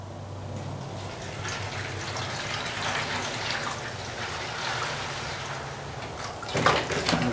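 Hot water runs steadily from a tap, a continuous broad splashing rush that holds for several seconds before a brief louder clatter near the end; no talking.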